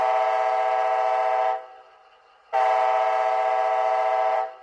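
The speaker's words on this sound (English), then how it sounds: "F2's horn." Horn from a Bachmann HO scale ALC42 Charger model of an Amtrak Phase 7 locomotive with a TCS WowSound decoder: two loud, sustained multi-tone blasts, the first about 1.5 seconds, a short gap, then a second of about 2 seconds, with no other sound.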